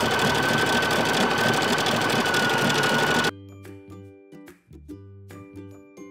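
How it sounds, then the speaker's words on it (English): A sewing machine stitches over ripped denim jeans, running with a loud, dense mechanical whir for about three seconds and then stopping abruptly, leaving faint clicks and handling noises. "just sew over them"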